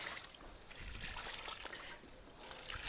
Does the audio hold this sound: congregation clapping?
no